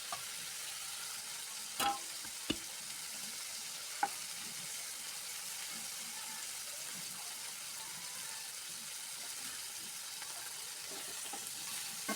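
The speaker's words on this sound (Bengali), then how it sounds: "দেখো আমার এক পিঠটা ভালো করে ভাজা হয়ে গেছে যে আমি উল্টে নিচ্ছি" Prawns frying in a pan after being turned give a soft, even sizzle that runs the whole time, broken by a few sharp knocks and scrapes from a spatula early on.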